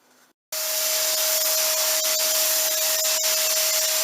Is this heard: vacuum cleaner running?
yes